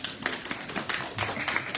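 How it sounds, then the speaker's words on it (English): A small audience at a community meeting gives a brief round of applause, with scattered, uneven hand claps close by and fairly quiet. "Let's give her a round of applause, please."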